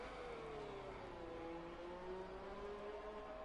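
Lewis Hamilton's black Mercedes F1 car in an F1 eSports race at Singapore, its engine a steady continuous whine with a slowly falling then rising pitch, loud and close with no talk.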